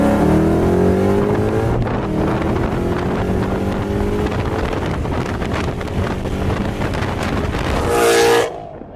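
A car fitted with a VMP Gen3R supercharger roars as it accelerates, its engine note rising in pitch under heavy wind buffeting, then a sharp whooshing burst near the end as the revs drop.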